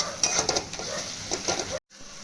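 Arhar dal dry-roasts in a pan on low flame, a spoon stirring with repeated dry scrapes and light clinks over a soft crackling hiss, then a sudden short cut to silence.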